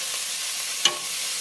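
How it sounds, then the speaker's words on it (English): Onions sauté in a pan for a slow cooker beef curry, giving a steady, even sizzle close by with one brief sharp clink partway through and no voices. "So we've been sautéing the onions for a few minutes."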